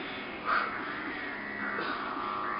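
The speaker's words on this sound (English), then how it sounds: "Seagulls or some shit." Gulls give a couple of harsh, loud cries, one near the start and another about a second later, over a steady background hiss.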